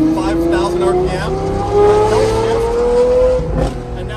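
A tuned V12 supercar engine revs loud and close with one smooth, steadily rising pitch toward 5,000 RPM, then drops off sharply near the end.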